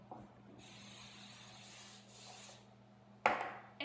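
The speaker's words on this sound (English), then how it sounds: "First, spray your pan." Cooking spray hisses onto a cake pan in a home kitchen, two steady sprays of about a second and a half each with a brief gap, followed by a sharp clatter near the end.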